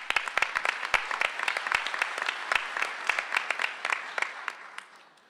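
An audience applauds at an Urban Land Institute report presentation on the St. Petersburg waterfront, with a spatter of distinct claps that gradually thins and fades toward the end.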